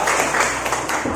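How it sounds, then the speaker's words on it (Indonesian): A morning class applauds: a short, steady burst of many hands clapping together in a room, close and fairly loud. "tepuk tangan untuk kita semua pagi hari ini"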